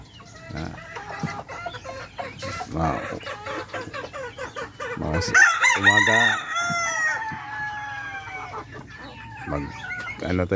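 Rooster crowing and hens clucking nearby, with a person speaking briefly over the farmyard sounds.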